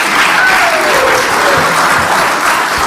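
An audience claps through a hearing room during an Ohio legislative hearing, the applause dense and steady from start to finish, with a few faint voices mixed in.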